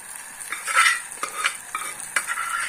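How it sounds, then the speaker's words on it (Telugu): Pre-boiled mutton, cooked earlier in a pressure cooker, is stirred into softened onions in a pan, giving a steady scrape of spoon against metal with soft sizzling and a few sharper clinks, close up and without talk. "ఉల్లిపాయలు మగ్గిపోయిన తర్వాత మనం కుక్కర్లో ముందుగా ఉడకబెట్టుకున్న మటన్ వేయాలి"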